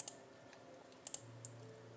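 A computer mouse gives a few faint, sharp clicks, one early and then a quick pair with another shortly after, over quiet room hum.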